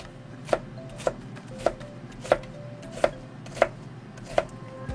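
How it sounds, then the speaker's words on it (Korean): A knife chops onion on a cutting board, seven evenly spaced crisp thuds at a steady pace, close by with no talking. "일단 양파를 다져줘야 돼서요"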